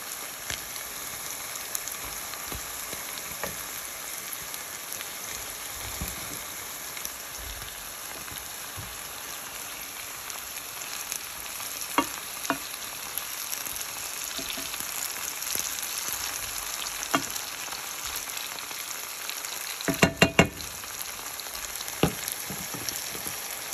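Merguez sausages and peppers frying in a pan, a steady soft crackling sizzle that runs throughout with occasional light pops and a brief cluster of clatter near the end.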